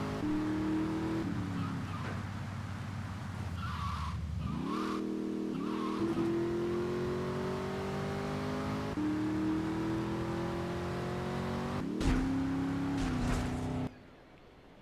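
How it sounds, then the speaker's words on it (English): In GTA 3, the Banshee sports car drives hard, its engine droning steadily and rising and falling with gear changes and throttle. A tire screech comes near the end before the engine cuts off abruptly into silence. "this is the Banshee, and it's a great fast car"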